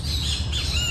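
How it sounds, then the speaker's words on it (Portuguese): A great kiskadee (bem-te-vi) calls in a town square. Its bright, harsh squawking notes sit over a constant wash of outdoor noise, with no talking. "Ó o canto do BTV aí"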